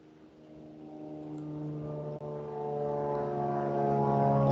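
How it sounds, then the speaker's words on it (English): An airplane flies low overhead, its propeller engine drone building steadily and growing louder over several seconds, with no talk. "That plane sounds like it's right on top of my house"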